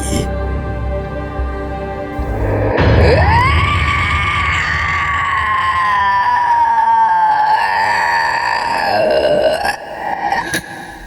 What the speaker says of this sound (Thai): เสียงคร่ำครวญของผู้สูญเสีย กำลังถูกแทนที่โดยเสียงกรีดร้องแห่งความตาย